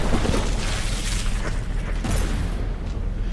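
Warship guns fire in the naval combat game From the Depths during a tournament battleship brawl, a continuous rumble of booms and explosions, loud and dense, with no clear gaps between shots.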